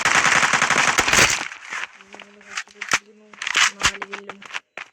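Rapid bursts of machine gun fire in the video game Kuboom, loud and close, with sharp single shots and clicks in between and a voice talking over the action.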